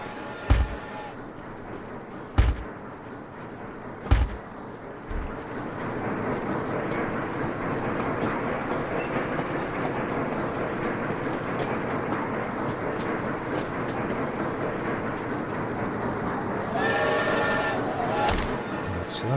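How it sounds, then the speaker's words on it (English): Steady rumbling of trains rolling along in the railway game Sweet Transit, a continuous mid-loud clatter with a few sharp clicks near the start and a brighter burst of mechanical noise toward the end. "so these are the trains coming out"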